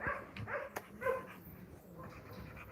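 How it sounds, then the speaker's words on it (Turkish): A dog barks a few times in quick succession, moderately close, followed by quieter outdoor background noise. "Muhteşem bir köpek."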